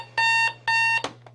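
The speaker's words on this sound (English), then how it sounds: "from turning off our alarm clock" A morning alarm clock rings in two loud, evenly spaced electronic beeping bursts, each about a third of a second long, followed by a short click and a faint tap as it is switched off, over a low steady hum.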